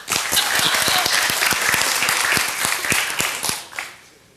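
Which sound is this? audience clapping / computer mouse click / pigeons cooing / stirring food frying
audience clapping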